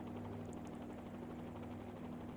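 Helicopter rotor thrumming steadily in a flight simulator game during an autorotation landing, a continuous low blade drone with engine whine, quiet and unbroken, no voices.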